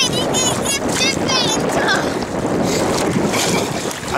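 Strong wind gusts buffet a small boat at sea near Procida, a loud roaring rush over water sound, with people talking through it.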